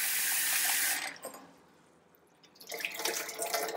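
Running tap water pours over soaked rice being washed for thatte idli, loud splashing at first, then a short quiet break before the flow and splashing resume close by.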